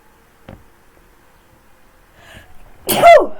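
A character sneezes in the horror game Dayshift at Freddy's: a short sharp sneeze near the end follows a quiet stretch with a faint click and a soft inhale build-up, no talking.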